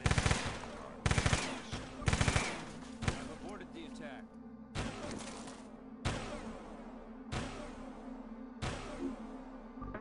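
Gunfire in the squad tactics game UFO: Aftershock breaks out in sharp, loud volleys: quick clustered bursts at first, then single spaced shots with brief ringing tails, while people talk faintly in the background.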